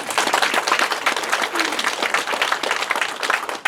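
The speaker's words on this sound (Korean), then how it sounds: "박수 쳐주세요." A seated audience claps together in a hall during a city mayor's public lecture, a dense, loud burst of applause lasting several seconds before cutting off.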